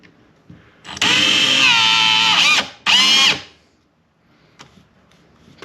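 A power drill bores into metal on a 1961 Ford Falcon, whirring loudly for about two seconds, stopping, then giving a shorter burst, followed by faint clicks and handling noises.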